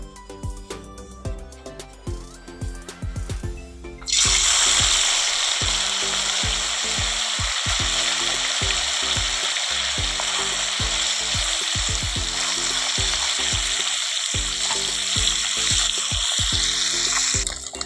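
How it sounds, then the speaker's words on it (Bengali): Sea fish frying in hot oil: a loud, steady broadband sizzle bursts in after a few seconds of quieter sounds, then continues unbroken while background music plays underneath. "তেলটা একটু গরম হতে দেবো, তারপরে মাছগুলো ভেজে নেব"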